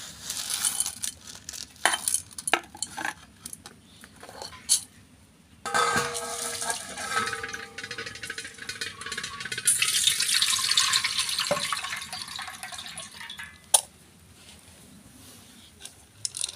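Water splashes and sloshes in a vessel as lentils are rinsed by hand, in uneven bursts with quiet gaps and a few clinks of metal.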